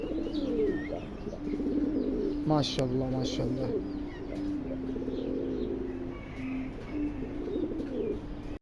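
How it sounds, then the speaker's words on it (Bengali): Red Lahori pigeons coo steadily throughout in low, rolling murmurs, with a voice speaking briefly over them near the start. "রেড কালার লাহরি কবুতর অরিজিনাল লাহরি কবুতর"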